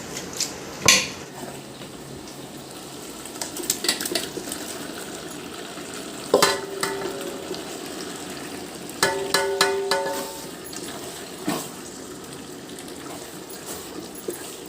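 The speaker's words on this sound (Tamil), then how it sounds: "நல்லா கிளறி விட்டுடலாம்." Chicken biryani is stirred with spices, ginger-garlic, yogurt and lemon in a pot, giving faint scraping and clanking of a utensil against metal, with a few sharper knocks at intervals over quiet kitchen background.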